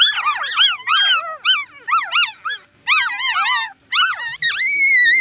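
A litter of Shih Tzu puppies, let outside for the first time, crying nearby in a steady stream of high, wavering whines and yips, several voices overlapping with brief pauses.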